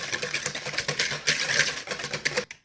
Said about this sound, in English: I'm going to mix the rest of our sugar in with our shortening, our salt, and our eggs. And I'm just going to whisk this